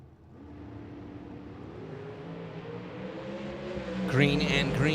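Drag racing cars at a Spring Fling Million event launch and accelerate down the strip, their rising engine roar building from a distance while an announcer talks over it.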